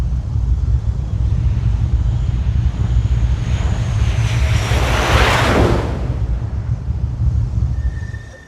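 A 50,000-pound F-14 fighter jet on an aircraft carrier flight deck passing with a loud, continuous roar that swells to a peak midway and then fades, with heavy wind rumble.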